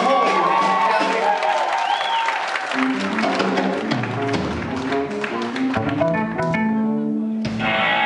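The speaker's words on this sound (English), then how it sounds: "Let's give him a big round of applause for the whole evening" A concert crowd at a show at Le Botanique in Brussels applauding and cheering, a loud, continuous roar of clapping and whoops mixed with band members tuning and noodling on their instruments.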